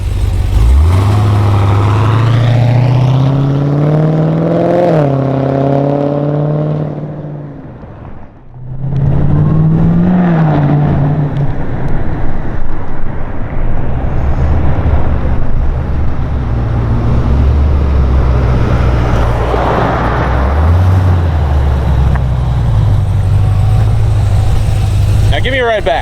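Pontiac Trans Am V8 revs hard several times, rising and falling with a deep, loud exhaust note, drops briefly, then settles into a rough, lumpy idle with further blips while people talk nearby.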